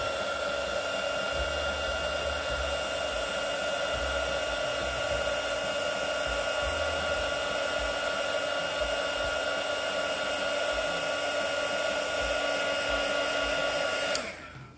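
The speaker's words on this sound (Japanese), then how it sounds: "これねヒートガンエンボスヒーターというタイプしますけど、これで温めてあげるとデカールが柔らかくなってちょっとキュッて縮むんですよね。" An embossing-style heat gun blows hot air to soften decals on a Volks 1/100 IMS Knight of Gold plastic model kit, a steady, loud whooshing hiss holding for about fourteen seconds before abruptly cutting off.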